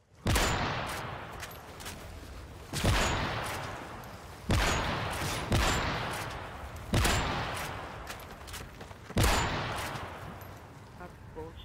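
Gunfire in a first-person shooter video game during a quickscope MOAB 1v1v1 match with friends: loud bursts of rapid shots arrive in separate clusters, each one ringing and decaying, with occasional voices underneath.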